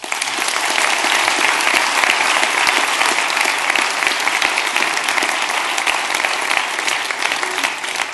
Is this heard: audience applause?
yes